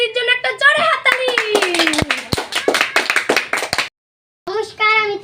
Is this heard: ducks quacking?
no